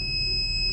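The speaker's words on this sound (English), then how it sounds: "that's the fire alarm" A fire alarm sounds as a steady, piercing high-pitched electronic tone, constant and fairly loud throughout, with a low background rumble underneath.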